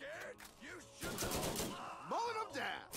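In the video game Borderlands Remastered, an automated turret fires rapid bursts of gunfire at moderate volume, mixed with game sounds and cooing or chirping tones.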